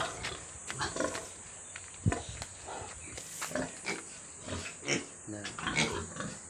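Pigs on a small farm pen in hot weather, grunting and squealing in short irregular bursts at close range, with a voice talking intermittently over the animals.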